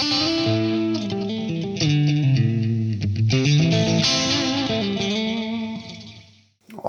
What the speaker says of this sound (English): let's turn on the Binson Echorec and see what it sounds like.